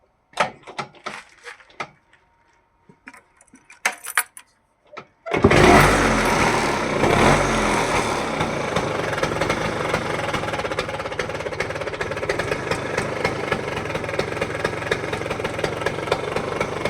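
After a few quiet clicks and handling noises, an engine cranks and catches with a sudden roar, then settles into a steady, even idle that runs on close by.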